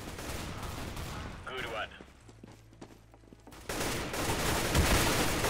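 Rapid AK rifle bursts from Counter-Strike: Global Offensive crackle in dense volleys, briefly pausing before heavier fire returns near the end, with a short spoken remark in the middle.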